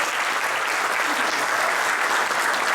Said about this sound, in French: monsieur le président Le Malabat, que je vous demande d'applaudir